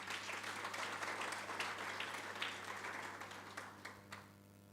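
A room of people at a sustainability report launch gives a brief burst of dense applause that fades out after a few seconds.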